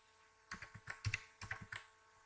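Keys tap on a computer keyboard while someone enters a list title into a mail-merge document. The keystrokes come softly and close, in three quick bursts of several strokes with short pauses between them.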